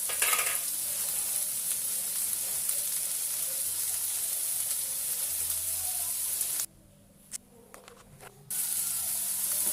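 Onions sauté in a pan with salt and curry leaves, a steady close sizzle with stirring scrapes that drops out briefly near the end before resuming.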